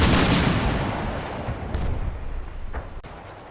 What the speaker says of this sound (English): The BTR begins to put fire on my observers in the building.